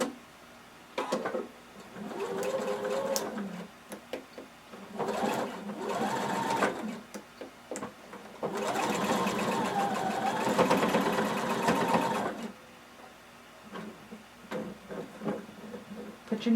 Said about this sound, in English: You're going to pivot and you're going to sew across the shoulder.